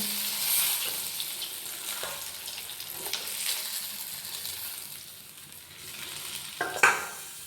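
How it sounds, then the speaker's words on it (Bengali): Fish frying in white oil in a pan, a steady soft sizzle with occasional scraping and a brief louder stir near the end, no talking. "দেখুন মাছটা কি সুন্দর লাল লাল ভাজা হয়ে গেছে"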